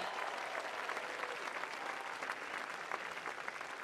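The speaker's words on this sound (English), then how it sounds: "Give him a round of applause, ladies and gents." Sustained applause from a tennis audience, a steady wash of clapping from a crowd that carries on evenly throughout at a moderate, slightly distant level.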